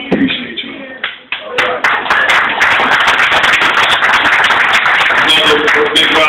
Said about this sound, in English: Another big round of applause for Brother Derek.